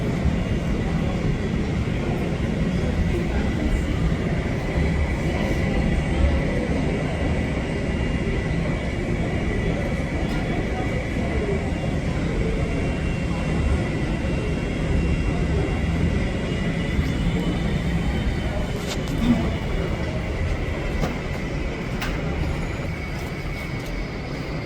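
An Icelandair Boeing 757 at Denver airport gives off a steady, continuous jet engine drone with a high whine, heard from a fair distance as a constant roar with no talk.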